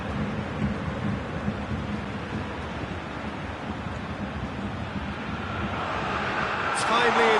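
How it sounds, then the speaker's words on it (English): Rain falls steadily in a football video game match, a dense, continuous wash of hiss and patter that swells slightly toward the end, with faint crowd ambience beneath. "Just starting to get the first signs of rain here"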